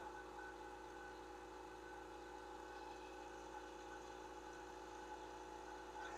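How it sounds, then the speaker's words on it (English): A 27-gallon Husky 2HP air compressor runs steadily from about seven feet away, its motor and pump making a constant mid-pitched drone with a faint whine and no break across the span. "71 dBA is the reading off the compressor from 7 feet away"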